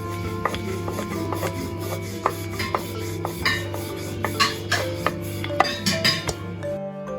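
Paratha dough is rolled out on a floured surface, with steady rolling-pin rubbing and repeated soft taps and knocks against the board over a constant background hum.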